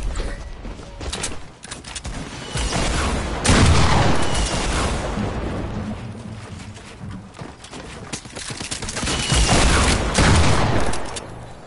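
Heavy bursts of RPG rocket explosions and battle noise in Fortnite, loud and nearly continuous with swelling booms around the middle and near the end, no talk.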